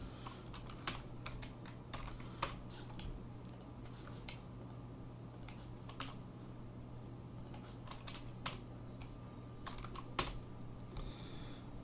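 Quick keyboard shortcuts tapped on a computer keyboard, a scatter of sharp clicks and double taps over a steady low hum, fairly quiet and close, with no talking.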